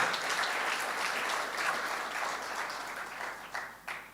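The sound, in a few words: audience applause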